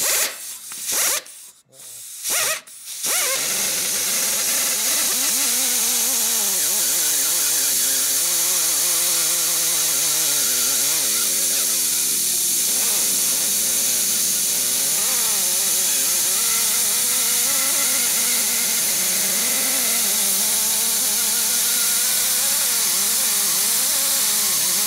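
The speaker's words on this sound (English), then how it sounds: "Grinder's a little wonky. Need a grinder upgrade." A wonky bench grinder in a motorcycle workshop runs continuously with a harsh, rasping grind that wavers as the work is pressed against it, loud and close after a few brief knocks at the start.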